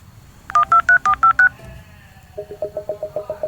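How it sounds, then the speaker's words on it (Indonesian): A quick run of six electronic keypad beeps, then a softer, faster sequence of tones as a number is dialed. "Tapi biar lebih jelas kita telepon lagi lah"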